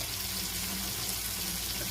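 Cool tap water runs steadily into a pot of cooked rigatoni, a continuous soft hiss and splash, fairly quiet with no talking.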